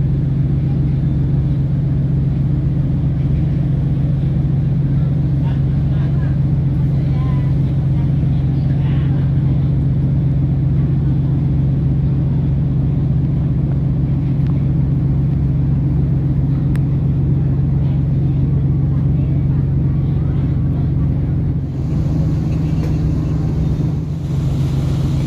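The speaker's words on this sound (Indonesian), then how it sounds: "sebuah kapal tunda atau tugboat sedang membantu kapal Dharma Kartika 9 untuk bersandar di pelabuhan Tanjung Perak" A tugboat helps the passenger ship KM Dharma Kartika IX berth at Tanjung Perak port, Surabaya, giving a steady, loud, low engine drone that holds throughout, with a slight change near the end.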